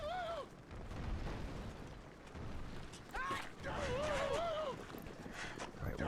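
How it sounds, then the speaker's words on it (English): Catapults fire during a siege battle in Medieval: Total War, heard as repeated creaking mechanical releases and dull thuds within a busy battle din, while someone speaks over them. "we do have lots of catapults going off"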